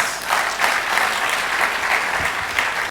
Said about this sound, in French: Applaudissements pour Denise.